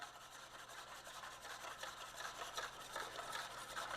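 Oil being whisked into a vinaigrette with shallots in a bowl makes a steady, fast scraping and rubbing sound. It stays close and fairly even throughout, with no talking.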